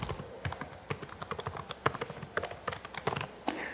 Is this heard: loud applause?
no